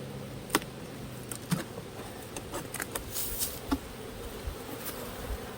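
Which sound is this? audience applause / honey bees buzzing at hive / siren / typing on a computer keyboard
honey bees buzzing at hive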